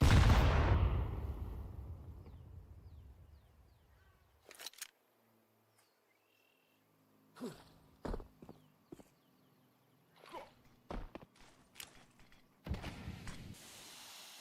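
Pistol gunfire during a competitive Counter-Strike-style esports match, a few sharp, isolated shots and clicks spaced apart after a loud opening burst, with quiet gaps between them.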